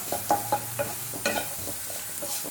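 Grated coconut being stirred into a hot pan, with several close spatula scrapes and clinks over a soft sizzle, spaced irregularly.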